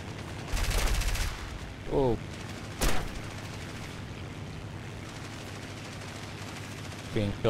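Bursts of gunfire in the War Thunder combat flight game, several short rattling volleys and sharp bangs spaced across the clip over a steady engine drone.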